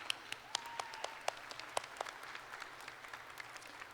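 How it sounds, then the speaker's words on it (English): Crowd at a high school graduation applauds the district champion girls basketball team, a steady wash of many hands with sharp individual claps popping out, fairly distant and without voices. "Yeah, give them a round of applause."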